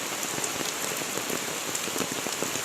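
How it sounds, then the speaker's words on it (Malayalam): Heavy, continuous monsoon rain during the Karkidakam season pours down in a dense, even hiss, with close drops pattering on surfaces throughout and no voices. "ഈ മഴയത്ത് ഇങ്ങനെയുള്ള കണ്ടിന്യൂസ് മഴയ്ക്കാണ് എന്തെങ്കിലുമൊക്കെ സംഭവിക്കുക"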